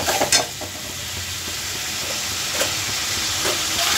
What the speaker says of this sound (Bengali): এই যে দিয়ে এবার কষাতে হবে একটু ভালো করে, খুব বেশি না, হালকা মিডিয়াম কষিয়ে নিই